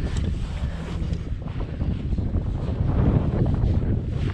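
Wind buffeting the microphone while fishing from a boat for bream, a constant rough rushing roar with some water noise, no talk.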